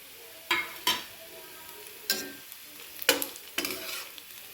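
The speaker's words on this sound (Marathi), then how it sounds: "कांदा छान भाजत आला की यामध्ये थोडेसे चिली फ्लेक्स घालून द्यायचे" Chopped onion fries with chili flakes in a pan for a palak paneer paratha filling, a steady low sizzle broken by several sharp stirring scrapes at irregular intervals, close and without talk.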